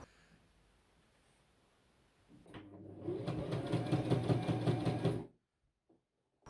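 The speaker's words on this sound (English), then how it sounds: "I pinned the raw edge and began sewing." Sewing machine stitching along a pinned raw fabric edge, a steady rapid mechanical whir lasting about three seconds after quiet rustling, then stopping abruptly into silence.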